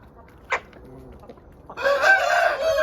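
A hen gives a few quiet clucks, then a young rooster crows loudly and close by, the crow stretching on for over a second.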